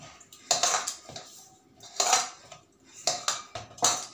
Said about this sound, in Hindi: इसे अच्छे से गूंथ लें।